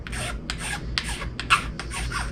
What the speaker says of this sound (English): you want to get your file back out so you can start sanding or filing.